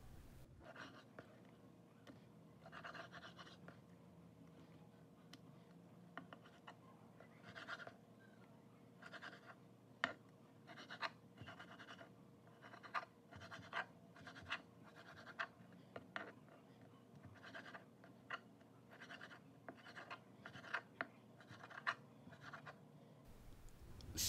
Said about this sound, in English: So what we will do now is to cut our beef depending on the desired size